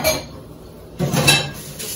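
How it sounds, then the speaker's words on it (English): Dishes going into a kitchen sink after cooking a turkey sausage breakfast: a few close clinks and knocks of crockery and cutlery, with a louder clatter in the second half. "Put the rest of the dishes in the sink."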